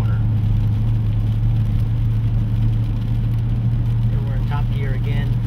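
A race car engine holds a steady, loud drone at speed in top gear on the Road America circuit, heard from inside the car, while someone talks over it.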